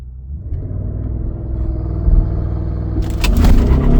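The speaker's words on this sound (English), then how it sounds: "You could hear it hold the RPMs and felt it built boost." Audi SQ7 with about 500 hp, in dynamic mode with traction control off, holding its revs on launch control and building boost: a steady, deep engine rumble that swells louder and rougher near the end.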